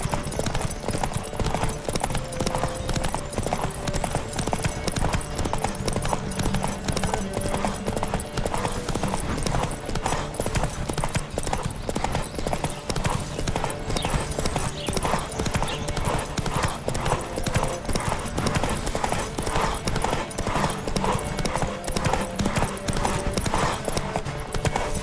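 Rapid, rhythmic hoofbeats of a galloping horse in the video game The Witcher 3: Wild Hunt pound steadily for the whole stretch, dense and continuous, with no voices over them.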